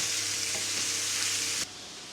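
Ground beef sizzles and crackles steadily in a hot pan, loud and close, then the frying noise cuts off abruptly near the end.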